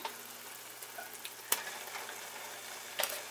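Yogurt being mixed into a frying mushroom biryani masala gives a faint, steady sizzle, with two brief scraping strokes of a spoon against the pan.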